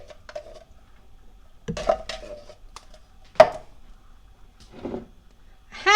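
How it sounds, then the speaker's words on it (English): Clinks and knocks in a mixing bowl as eggs and a can of cream-style corn are added to cornbread mix, a few scattered sharp taps and scrapes, close with quiet gaps and no talk. "To that, I am going to add 2 eggs, a can of cream-style corn,"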